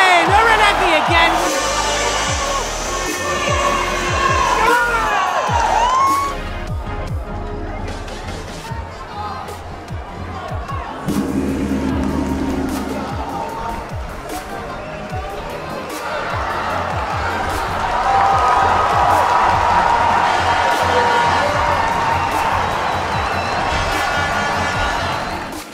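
A judo match crowd cheering and clapping in waves, with swells of noise rising and falling over about half a minute alongside an excited commentator's voice.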